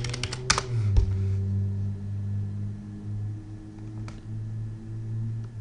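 Fast, close clatter of keys typed on a computer keyboard in a quiet room, a quick flurry at the start and then a few scattered taps over a steady low hum.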